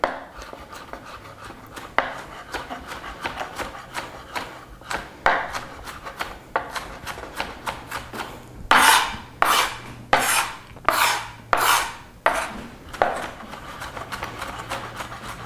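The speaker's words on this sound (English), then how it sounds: "resume chopping until you have created a nice fine meal of mushroom" Shiitake mushrooms and ginger are chopped finely with a knife on a cutting board, giving a series of sharp, rhythmic chops that grow louder and more regular partway through.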